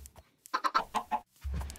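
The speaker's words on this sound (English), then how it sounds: "Come on, chickens!" Blocky Minecraft chickens give several short, close clucks in a quick burst, followed by a low thump and a softer rustle.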